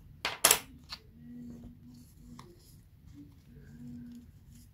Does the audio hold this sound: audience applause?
no